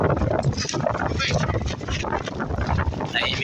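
Wind out at sea buffets the microphone aboard a boat with loud, continuous rushing gusts as someone talks over it.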